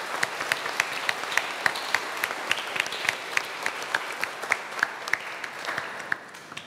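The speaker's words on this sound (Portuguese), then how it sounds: "Uma salva de palmas para Nossa Senhora da Conceição Aparecida." A Catholic congregation gives a round of applause in honour of Our Lady of Aparecida after a daily homily, with sustained clapping and distinct individual claps standing out from the crowd.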